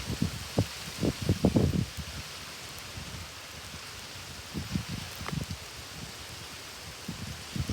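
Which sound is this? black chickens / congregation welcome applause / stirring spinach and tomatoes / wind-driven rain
wind-driven rain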